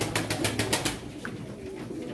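Pigeons coo and flutter at a pigeon auction in Çorum, with a burst of rapid wing flaps at first, then quieter cooing and ambient crowd noise.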